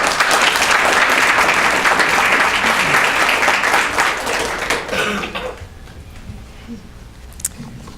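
Applause from the audience at an anniversary celebration: a dense burst of clapping that fades out after about five seconds, leaving quiet room noise with a cough or two.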